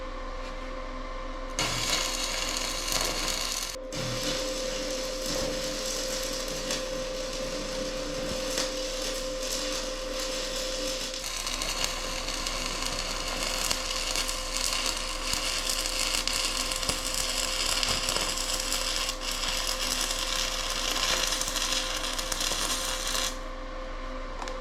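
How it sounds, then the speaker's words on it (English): An MMA stick welder, a Sefaspe MMA 120M, runs a bead on sheet metal, giving a continuous crackling, sizzling buzz with a steady electrical hum that lasts over twenty seconds without a break. "Let's run a little bit of weld on the sheet metal stuff"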